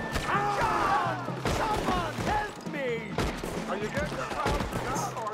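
Shots crack out in the Red Dead Redemption 2 game during a firefight as a rider is brought down, repeated bursts over chaotic game noise, with someone talking over the action.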